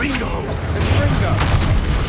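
Confringo blasting spells from Hogwarts Legacy explode one after another in busy combat, loud booming bursts over a dense, continuous game soundscape.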